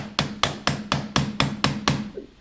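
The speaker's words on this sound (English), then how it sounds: "That's the hammer." Eight sharp hammer strikes land in a steady, even rhythm, each a crisp, loud impact with a short ringing decay, close up and with no voices.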